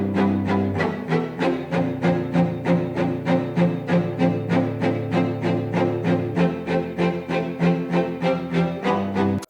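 Live string players bow short, rhythmic chord notes in a steady pulse of repeated stabs, full and close, continuing evenly without pause.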